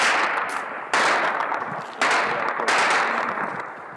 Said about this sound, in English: we're now being ushered away after hearing very close gunfire